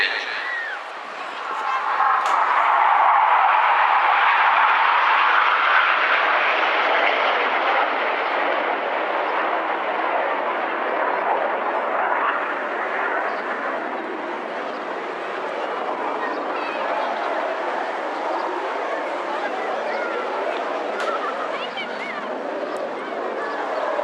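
An RAF Hawk jet flies an air display at Lowestoft, its engine a loud, continuous roar that swells early and then holds steady for a long pass, with faint voices beneath.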